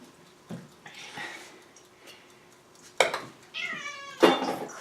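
A house cat meows repeatedly in a kitchen during cooking, with several loud, close, drawn-out calls in quick succession over quiet room noise.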